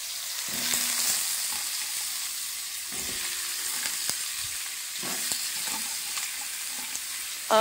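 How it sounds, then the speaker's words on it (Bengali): Potato and pumpkin pieces fry in a very hot karahi for khichuri, giving a steady close sizzle with occasional stirring scrapes and no talking. "আমি ওই আলু কুমড়োগুলো ভাজবো"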